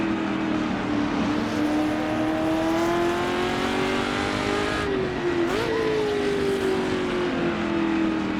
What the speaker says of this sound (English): we've then got a Ferrari there as well, on the 250 LMs